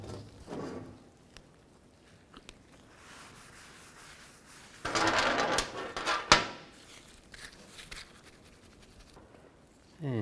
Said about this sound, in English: Take a rag and just clean this out.